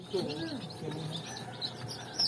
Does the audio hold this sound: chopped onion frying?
no